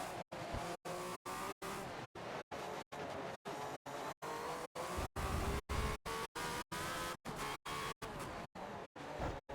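Race cars in the Forza video game, including a 1976 Ferrari F1 car, roar around Bugatti Circuit with a steady, loud engine drone and occasional tire squeal, broken by rapid regular cuts throughout.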